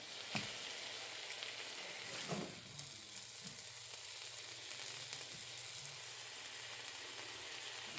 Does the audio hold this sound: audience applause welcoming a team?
no